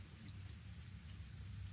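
Rain falls outdoors on a chilly late-October day, a steady low rushing hiss with a heavy rumbling undertone, even and unbroken throughout.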